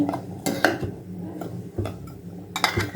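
A spoon knocks and scrapes against a beef curry pot as homemade garam masala goes in, giving several sharp metallic clinks and taps close by. No one speaks.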